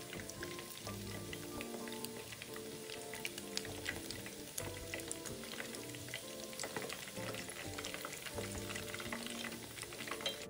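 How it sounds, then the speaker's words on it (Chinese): Meatballs deep-fry in oil over medium-low heat, a continuous close bubbling crackle with dense popping spatters, steady and unbroken for about ten seconds, no voices. "炉保持中低火，将丸子油炸至金黄色。"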